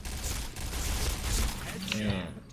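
The SC2010 XMAS 2015 gun firing in a video game, a quick run of rapid shots blurring into a rattling burst, then fading into softer mechanical clinks.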